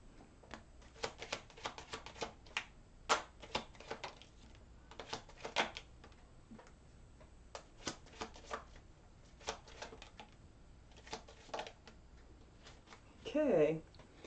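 Tarot cards shuffled for a reading, giving repeated soft riffling bursts and taps spread through the clip, fairly quiet, with a brief louder rustle near the end.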